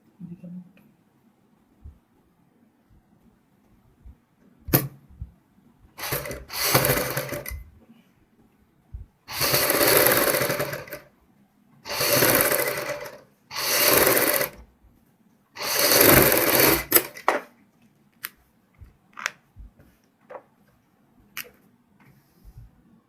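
A sewing machine stitches a half band onto a kurti neckline in several separate bursts of rapid mechanical whirring, each a few seconds long, with quiet handling clicks and pauses between runs.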